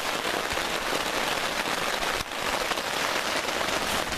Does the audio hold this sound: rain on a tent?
yes